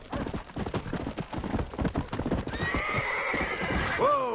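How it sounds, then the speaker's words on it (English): Horses in Red Dead Redemption clop along in a close, uneven run of hoofbeats, then one horse gives a loud, rising whinny near the end, with a voice briefly underneath. "Look at these here horses."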